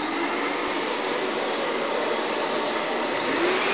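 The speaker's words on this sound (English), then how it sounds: "Voila, you have a supercharged vacuum cleaner." A supercharged setup of two vacuum cleaners runs continuously, a loud, steady, close whooshing roar with no pauses or talk.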